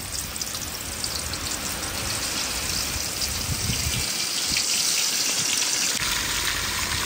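Continuous sizzling and crackling of chicken frying in hot oil, a dense steady hiss at moderate level with no voices.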